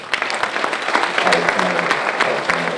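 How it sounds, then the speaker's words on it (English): Crowd at the 2024 UDC Hall of Fame awards ceremony applauds inductees, steady mid-level clapping running throughout with a voice speaking faintly over it. "Can we get another round of applause?"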